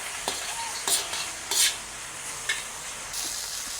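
Cabbage and green chillies sizzle steadily in a pan, with a spoon scraping and stirring in several short bursts over the continuous frying hiss.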